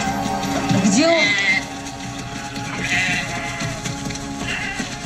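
A sheep bleats once, a wavering, nasal cry rising and falling near the start, then quieter animal sounds and a few voices follow in the background at an outdoor film event.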